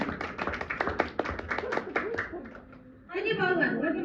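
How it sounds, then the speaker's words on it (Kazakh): Parents clap in a loose, irregular run of sharp individual claps for about two seconds, which fades out before a voice starts talking close by. "шапалақ ата-аналар береміз."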